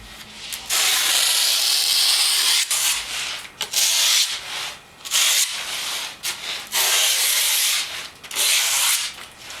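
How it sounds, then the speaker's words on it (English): Leftover skateboard grip tape is rubbed against the edges of a freshly taped deck, giving loud, close, sandpaper-like scrubbing in repeated strokes of about a second each, separated by short pauses. "Now just take the leftover grip tape and roughen down the edges."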